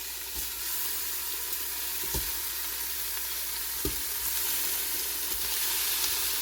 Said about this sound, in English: we're gonna go ahead and add in our oxtail